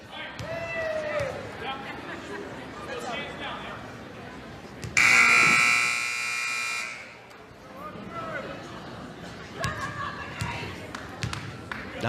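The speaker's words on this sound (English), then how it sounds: "Not used to that old gym buzzer." An old gym buzzer at a women's college volleyball match between Nebraska and South Dakota State sounds one loud, steady blast lasting about two seconds, with commentary and crowd noise around it.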